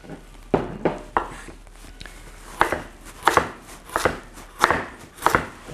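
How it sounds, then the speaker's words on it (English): A knife chops a carrot on an angle into pieces for julienne strips, a series of about ten crisp, close board strikes in an uneven rhythm with short pauses, no talk. "Carrot I'm just going to chop in a julienne, so generally I cut it on an angle like this first."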